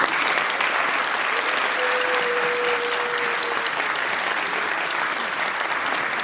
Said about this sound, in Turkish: alkış olmadan olmuyor değil mi?